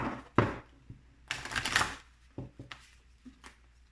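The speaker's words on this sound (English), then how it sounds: "I'm gonna shuffle these cards" Cards being shuffled on a table, a few quick riffling bursts with soft taps and pauses between them, close by and fairly quiet.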